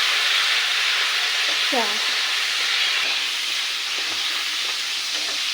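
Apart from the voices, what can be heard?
cashews and raisins frying in oil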